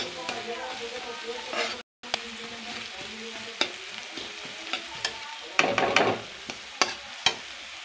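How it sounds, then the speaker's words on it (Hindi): Onions frying slowly in oil over a low flame for poha: a gentle, steady sizzle with sharp scraping ticks from a stirring spoon, faint and close, with one brief gap of silence. "ये हमारे प्याज अभी फ्राई हो रहे हैं, थोड़ा धीमे आंच पे इसलिए थोड़ा स्लो हो रहे हैं।"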